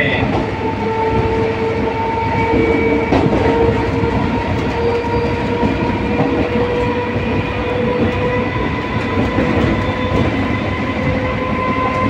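An EMU local passenger train passes through the station with a loud, continuous rumble and rattle of wheels on track. Steady tonal hums run throughout, with a brief voice in the background.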